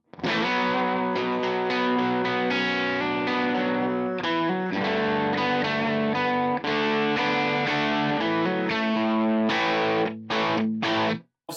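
Electric guitar played through a Kemper AC30 amp profile with a touch of reverb, bright and mid-heavy, strumming driven chords continuously and loud, ending in a few sharp stabs.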